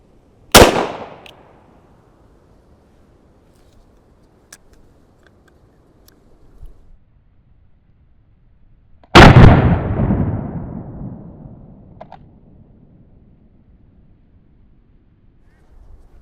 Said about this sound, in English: we're going to start out with the revolver